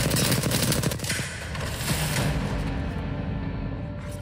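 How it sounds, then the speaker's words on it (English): Rapid automatic gunfire from an enemy in Apex Legends, a dense, loud burst of rattling shots that tapers into echoing noise and fading reverberation. "Joker's shooting at me"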